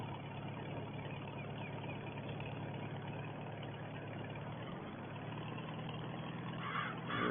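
A 1950 Farmall 300 tractor engine idling on a farm during cultivating, a steady low rumbling drone heard from nearby, with a slight rise at the end and no talk.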